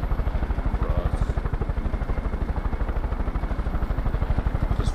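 A helicopter in the video game Far Cry 5 flies close by, its rotor chopping in a loud, fast, steady rhythm throughout with no pause.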